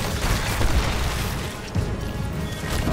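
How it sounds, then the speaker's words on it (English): An explosion in the Destiny 2 video game, heard as a dense, rumbling wash of blast noise that stays loud and continuous for several seconds, with no speech over it. "I'm so glad I had Wolven Mail active because I reduced the damage of that explosion."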